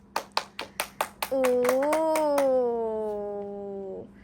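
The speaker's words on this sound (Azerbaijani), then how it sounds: "Məryəm Fərədzadə alqışlayın qızlar" Girls at a fashion contest in a shopping mall clap in a short, evenly spaced run of about six claps, then one voice rises into a long, high sustained cry.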